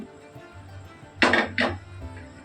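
A cooking pan is swirled on the stove before making a masala curry: two short, close scraping clanks of metal a moment apart, over a low steady hum, with no voices.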